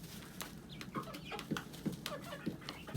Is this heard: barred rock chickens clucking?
yes